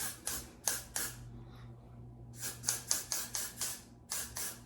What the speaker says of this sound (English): I'm gonna spray some more got-to-be glue on my hair